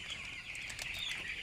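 Farm chickens kept for poultry rearing, giving a steady close chorus of clucking and a few wing flaps, with no talk over them.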